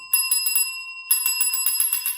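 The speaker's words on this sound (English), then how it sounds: "it has a solo instrument, which is a tap bell" A tap bell plays solo in a trolley-themed orchestral composition, giving bright, ringing strikes: a short burst of four quick dings, a brief pause, then a longer, faster run of repeated dings.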